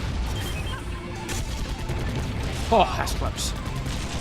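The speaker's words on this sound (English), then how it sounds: "They also have a special kind of machine gun." Machine gun fire from an enemy's special weapon in the game Iji, rapid bursts of shots running throughout with a voice talking over them.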